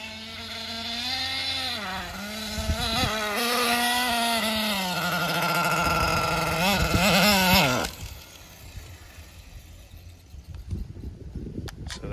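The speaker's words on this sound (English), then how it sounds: "I'm gonna go ahead and start to give it some throttle" A racing engine fitted with a new carburetor, on a CEN Racing Matrix R2, revs hard and high with a buzzing whine, its pitch rising and falling through several throttle blips before dropping to a rough idle.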